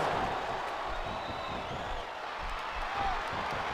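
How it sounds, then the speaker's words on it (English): A wrestling arena crowd in the video game WWE SmackDown Here Comes the Pain keeps up a continuous, moderately loud murmur and cheer throughout, with scattered claps and no talk. "Sounds like this crowd's got something on their minds, King."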